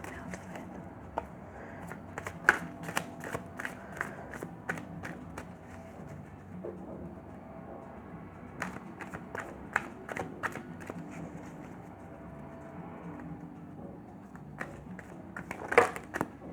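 Tarot cards are shuffled and riffled in a quiet room, producing a run of soft papery flicks and taps that come in clusters with short pauses between them.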